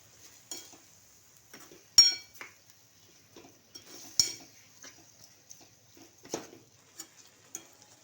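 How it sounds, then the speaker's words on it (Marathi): A spoon stirs a sweet pumpkin and sugar mixture in a pan, making sparse metallic clinks and short scrapes at irregular intervals against near silence, with no voices. "आता हे मिश्रण घट्ट होईस तोपर्यंत आपण चांगले असं हलवून घ्यायचं"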